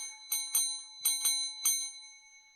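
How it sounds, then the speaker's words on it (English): A fish bell rung in a few sharp, bright strikes with clear ringing tones, five distinct hits spaced unevenly over a couple of seconds, close and alone. "I'll ring the fish bell for Larry King."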